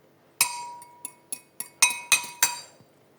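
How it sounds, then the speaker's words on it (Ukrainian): A fork whisks two eggs in a deep plate with a run of about seven sharp, bright clinks at uneven intervals, loud and close against a quiet background. "Нам треба розбити два яйця в глибоку тарілку і вилкою це все діло перемішати."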